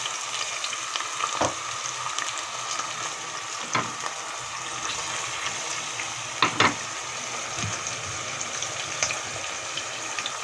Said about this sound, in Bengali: এখন আমি এর মধ্যে চিংড়ি মাছগুলো দিয়ে দেবো।